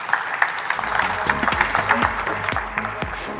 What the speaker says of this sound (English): Big round of applause for Akis.